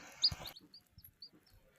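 A newly hatched chick, just freed from its shell, gives a few short, high peeps in a quiet room, the first burst louder and the rest faint and scattered.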